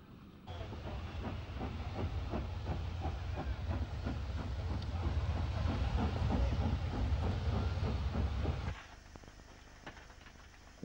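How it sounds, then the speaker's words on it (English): A steam locomotive built by the North British Locomotive Company to army specifications hisses loudly and steadily with a rhythmic chuffing pulse, close by, then drops abruptly to a quieter background near the end. "this rare 210O built by the North British Locomotive Company, and specially built to army specifications for easy servicing in the field"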